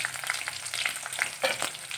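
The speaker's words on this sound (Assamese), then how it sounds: "দি কিছু সময় ৰঙচুৱা হোৱালৈ এনেদৰে ভাজি আছোঁ" Onions frying in hot oil with a dry chili and a bay leaf, a close, continuous crackling sizzle with small pops and light stirring, no voices.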